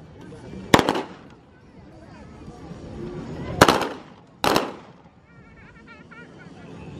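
Gunfire at a Children's Day demonstration at an air force base in Ubon Ratchathani, Thailand: three loud, sharp shots spaced seconds apart, with outdoor crowd murmur and a loudspeaker voice in between.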